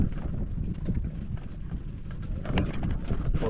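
Strong wind buffets a small fishing boat heading home on the water, a steady rough rumble of gusts and microphone wind noise with no voices.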